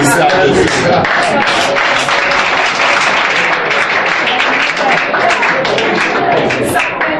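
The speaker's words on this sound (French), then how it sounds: "Il faut applaudir." A church congregation applauds loudly during a sermon, vigorous close clapping with crowd voices and speech mixed throughout.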